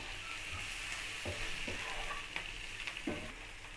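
Boiled egg pieces stirred into a frying pan, with a steady sizzle of hot oil and a few soft scraping stir strokes close by; no one speaks.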